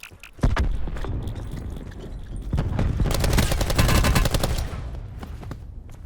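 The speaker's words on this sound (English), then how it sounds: "That's the sound of the windows breaking after the fact" Gunfire in the video game Call of Duty, a dense loud fusillade of rapid shots and thuds with crackling, shattering debris throughout.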